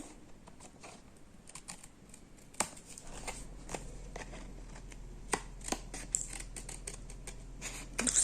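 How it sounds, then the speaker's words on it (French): Crisp scissor snipping through paper, trimming overhanging edges, with irregular clicks and rustles, close up, over a low steady hum, no talking. "Tout simplement, maintenant, j'attrape mes ciseaux."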